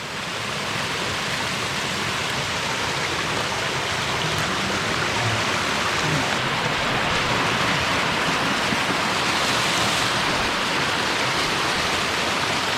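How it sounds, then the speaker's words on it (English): A waterfall in the Monashee mountains of British Columbia, heard close up as a loud, steady, unbroken roar of falling water. "Nice waterfall."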